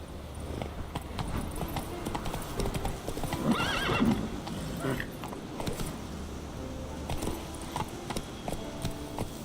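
Horse Roach galloping in The Witcher 3 video game, with rhythmic clip-clop hoofbeats and a neigh, under a voice urging the horse on.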